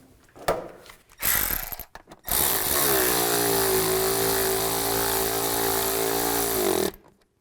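A power tool runs on bolts of a 2005-2015 Nissan Xterra during a drive belt component kit replacement, with short bursts, then one long sustained whine lasting about four seconds, loud and close.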